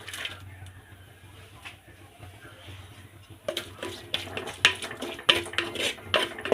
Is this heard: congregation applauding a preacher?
no